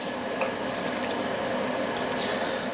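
Aloo gobi simmering in about three cups of water in a pot on high heat, a steady bubbling, sloshing liquid with faint soft stirring clinks, close and continuous.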